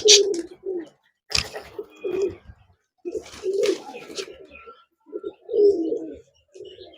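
Pigeons kept for sale coo in several soft, throaty bursts with short pauses between them, close by and fairly clear, with a few faint chirps mixed in.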